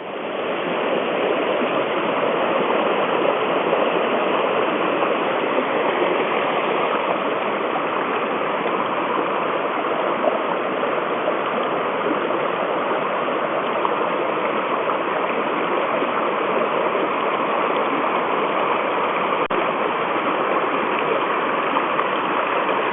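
Water discharging from a dam outlet rushes downstream in a loud, constant roar, dense and unbroken from start to finish with no voices.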